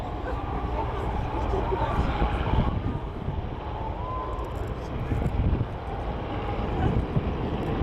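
The Avro Vulcan XH558 bomber flies a display at an airshow at Waddington. A broad, rumbling jet roar is heard at a distance, buffeted by wind, while spectators talk over it.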